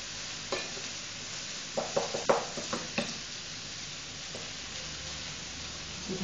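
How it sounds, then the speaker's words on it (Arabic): Chopped eggplant stuffing sautéing in a pan, a quiet steady sizzle broken by a cluster of sharp clicks and scrapes as a utensil stirs it, with no talking. "الحشوه ديالنا هي كتشحر."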